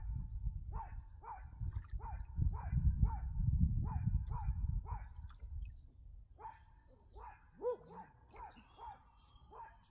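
A dog at a café bar barks in a rapid series of sharp, repeated yaps with a few whining calls, fairly close, over a low rumbling background and some faint voices.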